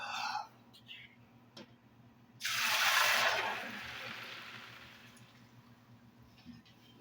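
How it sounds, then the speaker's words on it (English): Water is poured into a homemade water recycling system, a sudden loud splashing gush that tails off into a softer trickle over several seconds, preceded by faint clucking chickens and a low background hum. "Let me pour this water in."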